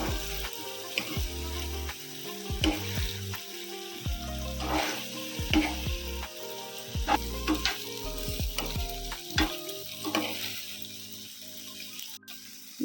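Chicken momo filling frying in a pan as it is stirred, a steady sizzle with repeated spatula scrapes and clinks over nearly thirteen seconds, close by with no talking.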